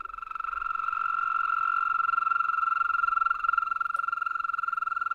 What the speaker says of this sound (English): That's a toad.